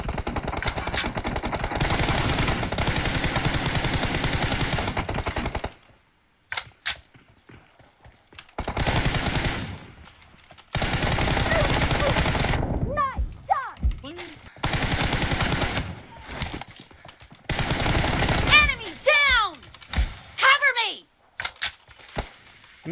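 Automatic gunfire from PUBG Mobile, loud and close, with long sustained bursts broken by short pauses and then choppier volleys, while players talk over the shooting.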